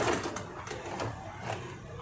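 A sewing machine stitches kameez fabric up to a notch where the seat ends, a steady near mechanical whirr running throughout with small rhythmic pulses and no talk.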